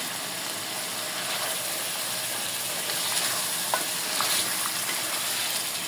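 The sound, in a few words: stirring spices into mutton curry while frying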